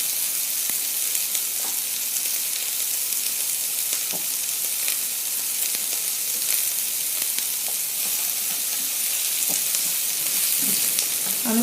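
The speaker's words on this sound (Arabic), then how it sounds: "هنفضل شويه كده لغايه الفلفل ما يدبل، مش يدبل يعني، شويه كده هنشوح فيه" Green bell peppers stir-fry in a hot pan for Cantonese chicken, giving a constant loud sizzle with scattered crackles and occasional scraping of the utensil, close up and with no speech.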